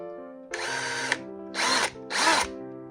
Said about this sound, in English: we might have to drill a little pilot first